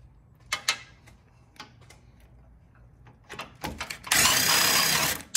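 A 7mm socket wrench works a hose clamp on a Fiat 500 Abarth during a front mount intercooler install, giving scattered clicks and ratcheting ticks before a sustained loud mechanical burst near the end.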